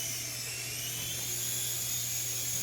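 An indoor toy helicopter takes off and flies, its rotor a steady high-pitched whine with a low motor hum, close and constant throughout.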